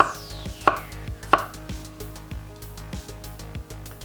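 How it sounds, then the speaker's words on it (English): Knife cutting through half a watermelon into half-inch slices on a board, two sharp crisp chops followed by a series of softer, quicker cutting taps, close and clear, with no talking. "Let's get rid of those and slice it about a ½ inch thick"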